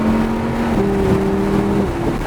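A car engine revs up, its steady drone climbing in pitch as the vehicle accelerates, loud and close.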